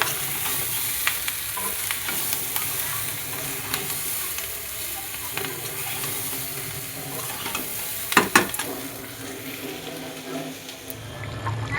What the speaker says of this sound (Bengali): আলুর সাথে ক্যাপসিকাম ভাজতে দিয়ে দিয়েছি